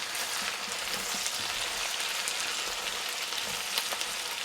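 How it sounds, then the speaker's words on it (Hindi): Potato bhujia frying in a pan makes a dense, even sizzle that runs unbroken and fairly close throughout. "हमारी आलू का भी भुजिया माशाल्लाह से मज़ेदार फ्राई हो रही है"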